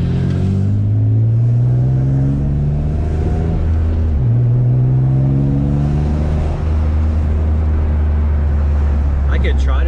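A single-turbo Infiniti G35 with its blow-off valve unplugged roars loudly and close as a continuous droning engine note, rising and dipping through several rev climbs with no pause.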